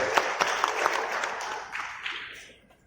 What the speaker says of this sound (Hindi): एक बार जरा जोरदार ताली बजा करके